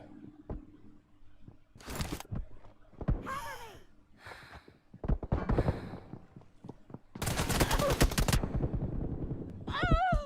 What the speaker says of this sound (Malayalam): ഓ ഫൂട്ടല്ല സോറി, വെടി വെക്കാണ്ട്